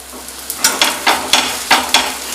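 Puffed-rice uttapam roasts on a hot pan with a soft sizzle, broken by several sharp scraping strokes as it is pressed and turned, close and fairly loud.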